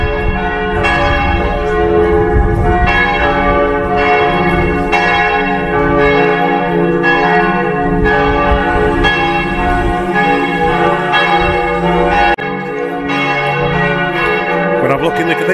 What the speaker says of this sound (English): Bells from the cathedral.